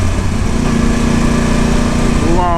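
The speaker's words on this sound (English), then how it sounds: "the sound of the crossplane engine" A Yamaha YZF R1 1000cc superbike with a crossplane four-cylinder engine revving loudly and close, a dense rasping growl that holds steady and then climbs in pitch near the end.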